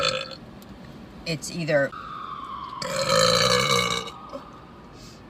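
Several burps from a woman, loud and close, with a short pair of gulping burps early on and a longer drawn-out tonal belch in the middle, with brief speech at the start.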